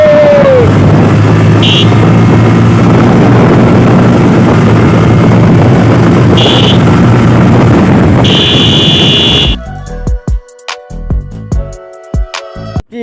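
A Bajaj Pulsar motorcycle's engine drones loud and sustained during a top speed run, with heavy wind buffeting over it; the roar cuts away abruptly near the end, leaving only choppy bursts of noise.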